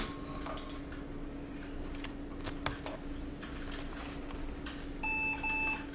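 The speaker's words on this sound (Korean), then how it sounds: "원래 부팅할 때 이런 소리 나시죠?" A quiet room hum, then near the end a short computer boot beep pattern, a couple of thin high tones close together, from a PC with a memory module missing.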